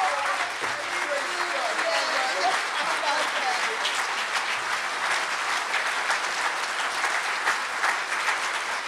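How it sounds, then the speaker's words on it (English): Sustained audience applause for the Reverend Dr. C.T. Vivian as he is welcomed to the stage, a dense, steady wash of clapping from a large crowd lasting throughout without a break. "Let's give him another warm welcome of applause"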